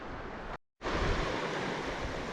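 River North Esk water swirling and churning over smooth worn bedrock near Marykirk in Scotland, a steady broad rushing roar that drops out briefly before resuming loud and continuous.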